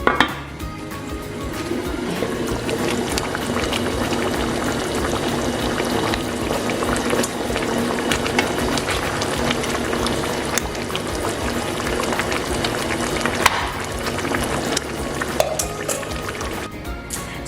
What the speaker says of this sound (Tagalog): pakuluan lang natin ito ng 5 to 10 minutes and pwede na ang ating sinarsahang pork ribs